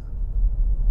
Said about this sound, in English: Van driving